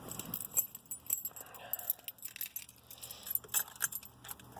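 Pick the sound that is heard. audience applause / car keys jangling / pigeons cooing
car keys jangling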